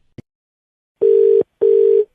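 Telephone tone after a call is hung up: a faint click, then two loud, steady electronic beeps, each about half a second long, separated by a short gap.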